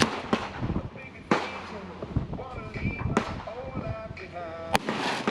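Several sharp, loud gunshots come from a Brigade BM-9 9mm pistol with a 5.5-inch barrel, fired at irregular intervals, with a person talking between shots.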